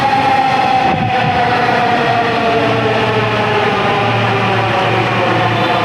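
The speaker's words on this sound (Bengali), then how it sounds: "ট্রেনটা কিন্তু অলরেডি চলে আসছে" A Dhaka metro rail train pulls into Shewrapara station, a loud, steady electric hum and rolling roar filling the platform, with a sustained whine from the train and no pause in the noise.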